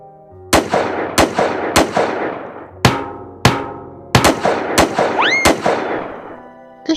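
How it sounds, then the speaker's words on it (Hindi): Rapid cartoon gunfire, about nine sharp shots in an uneven series with ringing tails, loud and close, with a rising whistle near the end. "इस तरह से लगातार गोली चलाने की वजह से शेर वहाँ से डर के भाग जाता है"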